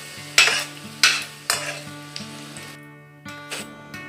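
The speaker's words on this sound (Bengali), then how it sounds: "গরম তেলের মধ্যে দিয়ে দিচ্ছি সরু সরু করে কুচিয়ে রাখা পেঁয়াজগুলো" Thinly sliced onions fry in hot oil, a steady sizzle punctuated by several distinct metallic clanks and ringing taps from a utensil stirring against the pan, close by, with no talking.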